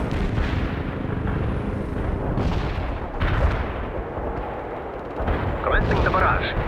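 Artillery barrage in the real-time strategy game World In Conflict, with a continuous roar of heavy fire and booms layered under a voice and radio chatter, swelling in bursts throughout.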